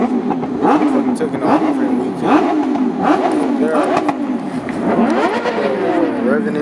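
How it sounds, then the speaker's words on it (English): Car engines rev repeatedly at a car show in Arizona, rising and falling in loud, overlapping bursts, with people talking among the crowd. "revving and shit already"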